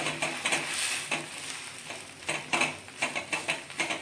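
Pav bhaji being stirred and mixed with cut pav bread in a pan, giving soft scraping and sizzling with repeated spatula taps, close and steady with no talk.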